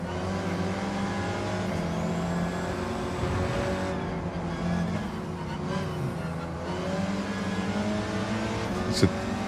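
Volkswagen Beetle race car in Gran Turismo 7, built to Group 4 spec on racing tyres, its engine droning steadily with rising and falling revs, plus a brief tyre squeal near the end and occasional talk under it.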